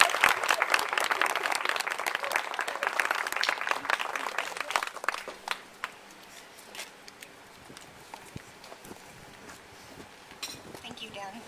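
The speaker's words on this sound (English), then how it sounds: "please give her a big round of applause" An audience at a foundation event gives a big round of applause, loud and dense at first, thinning into scattered claps and faint clinks of dishes and cutlery, with some voices in the room.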